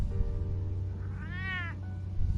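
A cat gives a single clear, mid-length meow over a steady low background hum, close and moderately loud, with no talking during the call.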